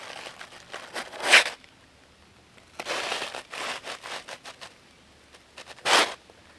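A wooden roofing shingle being cut by hand into a shim, bursts of rough rasping strokes separated by short pauses, close with no talking.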